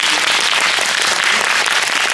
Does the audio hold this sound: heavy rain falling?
no